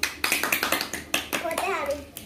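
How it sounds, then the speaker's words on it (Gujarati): Young schoolchildren clap their hands together in a quick series of sharp, close claps, joined by a voice talking near the end. "સરસ. તાળી પાડો"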